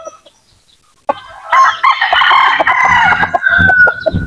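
A large native rooster crows loudly and close by in one long, wavering call, with clucking and other farmyard noises around it.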